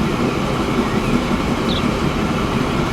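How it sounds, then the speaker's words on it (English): A train in the Transport Fever simulation game rolls through a town at about 45 km/h, giving a steady, dense rumble of wheels and carriages that stays loud and continuous. "Let's slow it down and watch that train a little bit as it goes through town."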